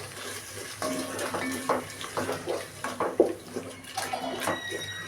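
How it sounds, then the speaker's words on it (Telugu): Tomato being stirred with ginger-garlic paste in a pan for vegetable pulao, giving a run of soft, wet scraping and squelching strokes with a faint sizzle underneath, close and steady throughout. "ఇందులో 1 టేబుల్ స్పూన్ అల్లం వెల్లుల్లి పేస్ట్ వేసుకొని మిక్స్ చేసుకోవాలి"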